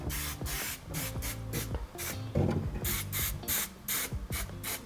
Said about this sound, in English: We're also putting on some rust converter on the inside of the metal, what we can't reach later after welding.